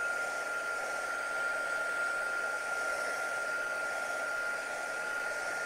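A hair dryer blows steadily and loudly throughout, drying paint on a crackle-effect clock craft project, with a constant whooshing roar and a sustained whine and no talking.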